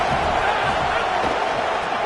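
A college football stadium crowd cheering: a broad, steady roar of many voices, loud and sustained throughout without a break.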